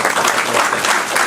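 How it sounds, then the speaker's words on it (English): A seated audience breaks into brief, dense applause for a speaker after a Q&A talk, steady clapping throughout the short moment with no voices over it. "Round of applause for Steve Stone."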